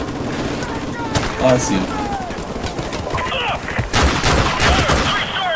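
Enemy gunfire crackles in repeated bursts and bangs during a firefight in Call of Duty Modern Warfare Remastered, with shots near and far while a player talks over it.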